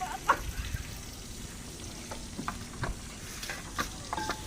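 Onions frying in a pan, a soft sizzle with intermittent stirring clinks and scrapes close by, quiet and uneven.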